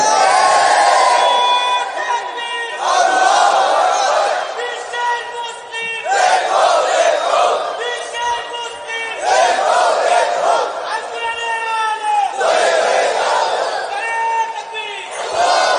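A large congregation at a Bengali religious gathering chants takbir in loud, unified bursts, with roughly five rhythmic call-and-response waves of massed voices repeating across about sixteen seconds, filling the space.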